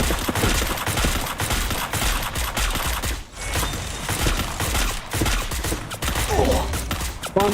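Dense gunfire in a competitive video game scrim comes in near-continuous rapid bursts and fusillades at close range, with short pauses between them.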